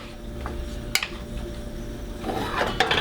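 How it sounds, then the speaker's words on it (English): A wooden spoon stirs onions grilling in a pan, giving soft scraping and rubbing close by, a sharp knock near one second, and a louder scrape with a final clack at the end. "We're going to grab a wooden spoon, and we're going to mix it around just like this, keeping it going."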